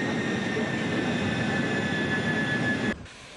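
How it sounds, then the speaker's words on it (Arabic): An Algerian Air Force transport plane landing at Tripoli International Airport, heard from inside as a steady loud engine roar with whining tones, dropping abruptly near the end. "حطت بنا الطائرة التابعة للقوات الجوية الجزائرية بمطار طرابلس الدولي"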